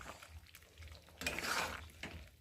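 A spoon scrapes and stirs cauliflower and bori curry in a pan, producing a few faint, brief rustling strokes, with a slightly louder stir in the middle.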